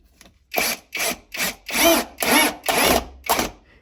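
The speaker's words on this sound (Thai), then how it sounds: "ถ้าเราใช้สว่านของมาสลุตัวนี้ก็ถือว่าสบายเลยครับมี หัวเปลี่ยน" A Masaru cordless drill with interchangeable heads drives screws in seven quick whirring bursts, each roughly a third of a second, separated by brief pauses, close and loud.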